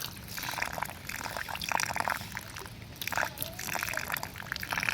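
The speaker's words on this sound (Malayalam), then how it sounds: "അമ്മയുടെ വെള്ളം കോരി അടിച്ചുകൊണ്ടിരിക്കുക." Water is scooped and splashed by hand while washing during the rainy season, giving irregular sloshing bursts at close range over a steady wet background.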